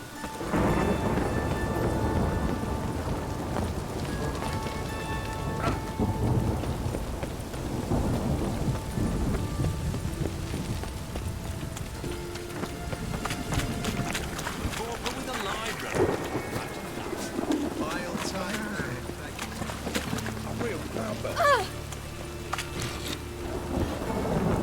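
Steady rain and rolling rumbles of thunder fill a rainy town scene in The Witcher video game, a constant wash of downpour with low booms, while voices speak over it at times.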